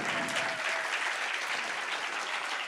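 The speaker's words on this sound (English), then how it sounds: "If we can just give them all one more round of applause." A crowd claps at a student founder showcase, with dense, steady applause holding at an even level throughout and no voices over it.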